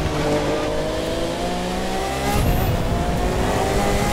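A car in The Crew 2 racing game drives with a steady, loud engine drone whose tones climb as it accelerates, then shifts gear and keeps revving, alone.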